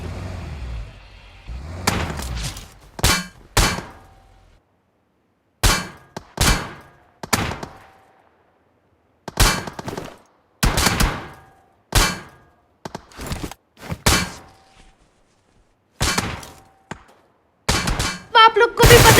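Bursts of gunfire from a PUBG match arrive in separate clusters of sharp, loud cracks with short silent gaps between them, and a low rumble sits at the very start.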